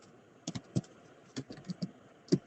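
A computer keyboard being typed on, quiet and close, with a handful of scattered clicking keystrokes in irregular bursts over faint background hiss.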